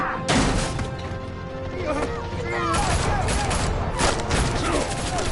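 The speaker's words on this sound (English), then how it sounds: "And police are still shooting me." Police gunfire rattles in sharp bursts during a tense scene in the Telltale Batman game, mixed with crashes, impacts and swelling music, with voices talking over the action.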